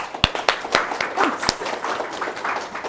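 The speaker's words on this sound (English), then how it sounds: "let's give her a round of applause" An audience at a university communication school talk gives a round of applause, a few seconds of scattered, moderately loud clapping from a modest crowd.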